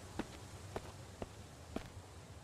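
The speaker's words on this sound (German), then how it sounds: "Ich habe Schritte gehört, die mir ein bisschen Angst gemacht haben." Four evenly spaced footsteps thud at a walking pace in the survival game Mist Survival, faint and set against a low ambient hum.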